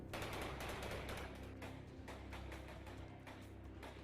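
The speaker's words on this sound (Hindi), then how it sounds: "अचानक एक गोली चलती है और वो तीनों गोली की आवाज सुनते ही जमीन पर गिर जाते हैं। उसके बाद वो वहां से भागने की कोशिश करते हैं, लेकिन तभी उन पर गोलियों की बौछार शुरू हो जाती है।" Sustained burst of machine-gun fire in a battle scene, rapid overlapping shots forming a dense, loud, continuous rattle for several seconds with no voices.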